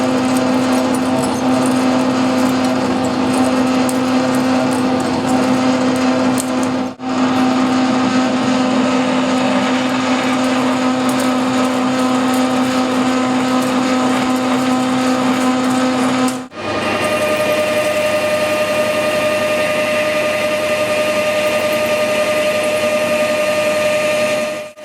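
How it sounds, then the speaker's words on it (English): Steady whirring machine drone with a sustained tonal hum from a large drill bit boring into metal on a lathe, running continuously with two brief dips where the pitch and tone shift. "I'm just going to put a nice big drill in there just to get it, just to get a hole in"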